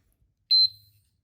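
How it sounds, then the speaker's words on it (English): A single loud, high electronic beep lasting about a fifth of a second, followed by a faint low hum that fades out, with silence on either side. "So it's a pretty loud beep when you do that."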